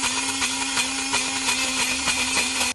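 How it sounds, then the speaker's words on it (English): Blender whirring steadily as it purees pesto with whole pecorino cheese, a loud continuous motor drone with slight rhythmic pulsing from the churning, no voices. "I can just shove the entire thing in and let the blender do its magic"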